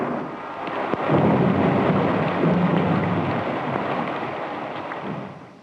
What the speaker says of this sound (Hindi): गड़गड़ाहट बढ़ने लगी,